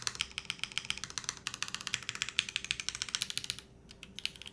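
Typing on a Sat 75 X mechanical keyboard with a firm, flat-sounding silicone-modded build, a rapid close run of clacky keystrokes that briefly thins out near the end.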